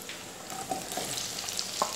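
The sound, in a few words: onions sautéing in a pan for aloo gobi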